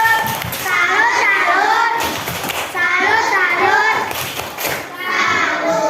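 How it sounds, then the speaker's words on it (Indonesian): A class of children performs the 'tepuk salut' clapping routine, chanting together in unison over several rhythmic bursts of hand claps, loud and close. "Coba tepuk salut dulu, tepuk salut"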